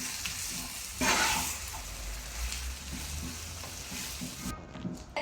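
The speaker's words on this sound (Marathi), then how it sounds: "आणि हे सगळं ना छान मिक्स करून घ्यायचं।" Spiced vegetable filling with capsicum, homemade masala and garam masala being stirred in a pan for a wheat veg cheese frankie, a steady sizzle with scraping strokes of the spoon, one louder stir near the start.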